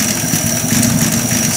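A Buick Roadmaster engine idles while its carburetor is being adjusted, giving a loud, steady, close rumble with no break across the short stretch.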